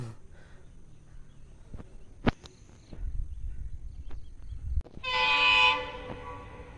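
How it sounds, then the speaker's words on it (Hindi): A freight train rumbles past, its wheels and cars clattering with a few sharp knocks before a loud, long horn blast sounds near the end, heard at moderate distance. "आनी ते ट्रेन आतां येता. ट्रेन मालगाडी"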